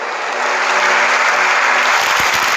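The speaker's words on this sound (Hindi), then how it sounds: "हमारे मोदी जी की तालियां बजा रहे हैं वहां पे" Crowd applause for Prime Minister Modi, playing from a video as a loud, dense wash of clapping that continues steadily throughout.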